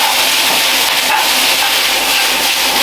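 Spring onions and bean sprouts hit a hot wok for chow mein, giving a loud, steady, hissing sizzle that fills the whole moment without a break.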